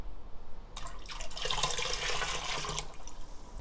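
About 350 ml of liquid is poured into a container of pickled chili peppers, a splashing, gurgling stream lasting a couple of seconds over a low room hum.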